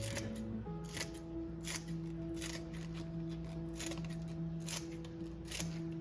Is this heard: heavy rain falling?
no